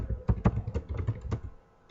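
Keys clatter on a computer keyboard in short irregular bursts of close, crisp taps, with a brief lull before a final few strokes.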